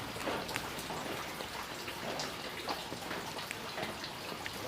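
Steady rain pattering down, dense and even, with scattered louder drops striking nearby surfaces throughout.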